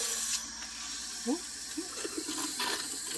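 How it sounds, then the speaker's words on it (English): Water runs from the kitchen sink faucet of a Riverside Retro 135 travel trailer, a faint steady hiss with a few sputters and gurgles as air spits out of the line. "Run it a bit just to get all the air out, just in case there is some water left in there."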